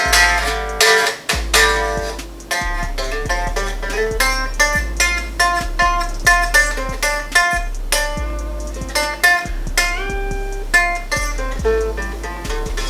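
Rhythmic strumming on an unplugged 2002 Fender Jag-Stang electric guitar rings out clearly and continuously, bright strings struck in a steady pattern with no voices.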